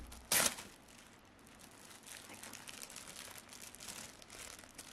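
Plastic packaging on a ready-made birthday banner crinkles in one sharp, close burst at the start, followed by quieter faint rustling and handling noise.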